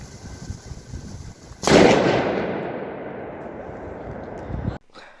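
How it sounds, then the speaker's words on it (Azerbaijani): An Ek 6207 firecracker bursts with a sudden loud crack, followed by a long fizzing, crackling hiss that fades steadily for about three seconds before cutting off, with a few faint sounds after. "Çox yaxşı partladı Ekran 6207."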